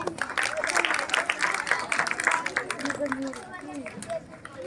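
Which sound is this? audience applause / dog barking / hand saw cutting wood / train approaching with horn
audience applause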